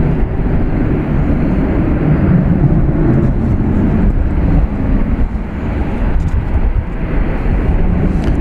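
A Turkish Airlines Dreamliner passes at night at Dallas Fort Worth International Airport, a steady, loud low-frequency jet roar that fills the whole stretch with little change.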